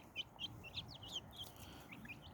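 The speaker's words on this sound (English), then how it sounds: "I hear the chirping of the birds up in the trees" Small birds chirp and tweet in the trees, short bright calls repeating every few tenths of a second over soft, steady outdoor background noise.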